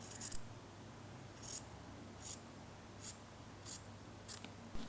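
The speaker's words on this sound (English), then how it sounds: "We are going to cut the bow shape." Scissors cutting fabric into a bow shape, about six crisp snipping cuts at a steady, unhurried pace, close and quiet with no talk.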